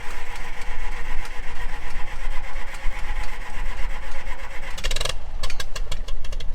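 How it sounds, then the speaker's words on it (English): A tractor-driven water pump, fitted with a smaller 9.5-inch pulley, runs steadily on a flooded farm, giving a loud, continuous mechanical drone with rhythmic pulsing; near the end a brief burst of rattling clatter cuts through. "the pump should run a little bit faster now"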